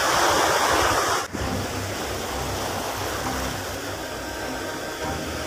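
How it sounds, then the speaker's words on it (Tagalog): Rough sea waves break and wash continuously along an island shore during fishing, a loud steady surf roar with a brief dip early on, no voices. "Kaso maalon, no? Maalon sa likod ko."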